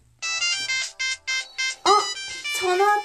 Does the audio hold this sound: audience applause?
no